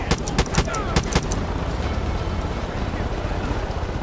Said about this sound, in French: Dans l'hélico.